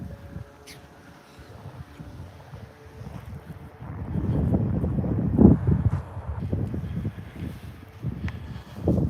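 Strong wind blows across an open park on a freezing, snowy day, a low buffeting rumble against the microphone that grows louder and gustier about halfway through, with no talking.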